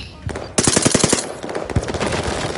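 Loud, close automatic gunfire rattles in rapid, dense bursts with barely a pause, sharp cracks stacking into a continuous roar.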